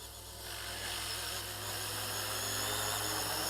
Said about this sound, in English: it is the helicopter making that weird noise